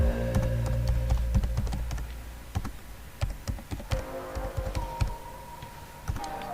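A password is typed on a computer keyboard, with irregular clusters of light, close key taps over a steady background hum and no talking.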